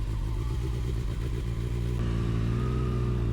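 A Kawasaki ZX6R sport bike rides at night in Pattaya, its engine droning steadily with a rhythmic pulsing, then settling into a higher, smoother tone partway through, continuous and close.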